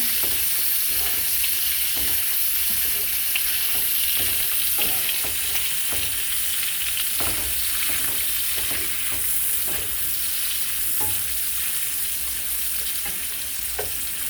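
Kielbasa sausage frying in a pan, a steady loud sizzle throughout with occasional crackles and soft utensil clicks, no voices.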